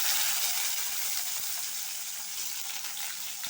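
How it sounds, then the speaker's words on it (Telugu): Onions and green chillies fry in a pan with a continuous bright hiss and sizzle, fairly quiet and even, with faint stirring underneath. "ఆనియన్స్ మెత్తగా అయ్యేంత వరకు ఫ్రై చేసుకుందామండి"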